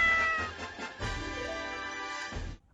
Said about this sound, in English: I tamed a cat.